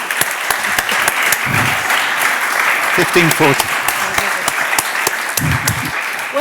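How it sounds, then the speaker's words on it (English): Audience applause for a conference panel in a hall at Badia Fiesolana, dense steady clapping throughout, with a voice briefly speaking over it. "give a round of applause for our terrific panel"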